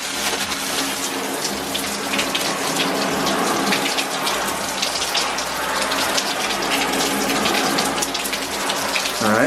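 Water sprays steadily onto an Adidas Terrex rain jacket, a loud, close, continuous hissing splatter that stays level throughout with no talking.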